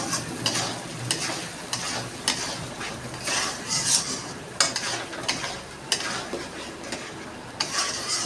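Food being stirred and sautéed (kosha) in a pan with spices: steady sizzling under repeated scraping and clattering strokes, close and fairly loud, without talk.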